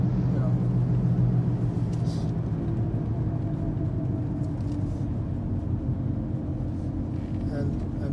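A 2014 Ford Escape with only 75,000 km driving above 50 km/h, giving a steady loud low rumble and drone throughout, with a voice talking over it.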